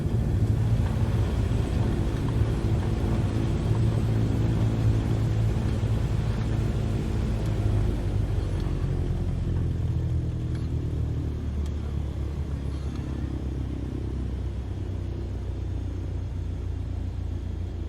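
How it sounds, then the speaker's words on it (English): A Cessna rolls to a stop on the runway after landing in MS Flight Simulator 2020, its steady low engine and rolling rumble droning continuously and easing slightly in the latter half, with no talk. "Now apply the brakes to slow us down and bring the plane to a stop."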